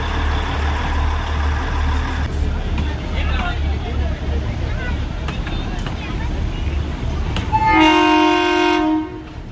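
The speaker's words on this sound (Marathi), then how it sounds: "ही ट्रेन एवढीशी छोटी टॉय ट्रेन चाललेली आहे टुवर्ड्स माथेरान" A small narrow-gauge toy train to Matheran rumbles and clatters along at close range, then a loud, steady horn blares for about a second near the end.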